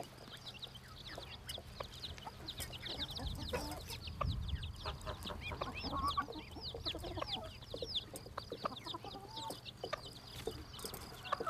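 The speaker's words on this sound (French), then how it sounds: "Lorsqu'elles sont en liberté dans la cour de la ferme, les poules grattent le sol." Hens and chicks scratching about loose in a farmyard, soft repeated clucking and constant high peeping of chicks, fairly quiet and close, with a low hum underneath.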